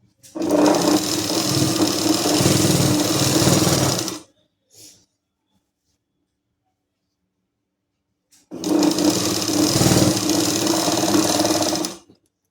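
A sewing machine stitches the folded hem of a patiala salwar in two steady bursts of rapid whirring, about four seconds each, separated by a few seconds of near silence.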